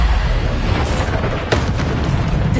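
A Bombarda explosion spell goes off in the video game Hogwarts Legacy, a dense booming blast that rumbles loudly throughout with a sharper burst partway through, set against continuous game noise.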